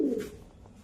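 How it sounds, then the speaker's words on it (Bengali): A caged pigeon gives a short low coo close by, a single soft throaty call that fades quickly, with no talk. "দুটো পায়রা দেখানো হচ্ছে, এটা নর আছে,"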